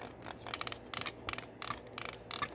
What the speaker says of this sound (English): Got that ratcheted joint ASMR